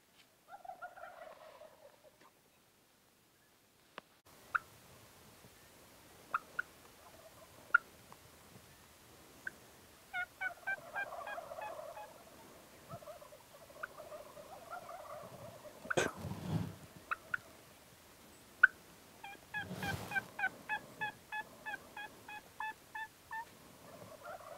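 Wild turkeys gobble repeatedly in the distance, rapid rattling calls coming in bursts, with a few louder knocks and thumps nearby in a quiet outdoor setting.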